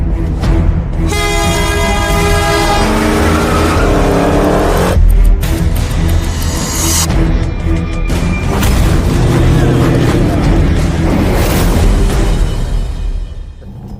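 A 1975 AMC Gremlin with a V8 races on an organized street course lined with cones and guardrails. Its engine roars loudly and close, with revs climbing and dropping over sustained rumbling and no voices.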